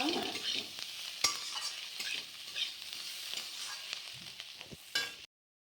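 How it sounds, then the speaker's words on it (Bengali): A banana flower mixture fries quietly in a pan while being stirred, with soft sizzling and repeated scraping, clacking strokes of a spoon, close by and with no talk. "এখন আমি একটু ভাজা ভাজা করে নিব।"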